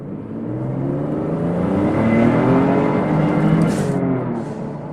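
A modded 2007-era-style Ford F-150 with the 2.7L engine accelerates hard under throttle, its engine note climbing in a loud, close, rising rumble that peaks midway and holds. No one speaks.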